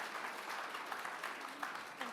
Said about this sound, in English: Please, rounds of applause and join me on stage, Alicia.